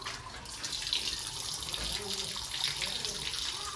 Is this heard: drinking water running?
yes